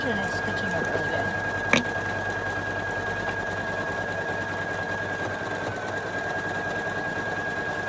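A Poolin EOC06 embroidery machine stitches out a design in orange Super B thread, giving a steady mechanical whir with a constant tone and a single sharp click partway through, while someone talks over it.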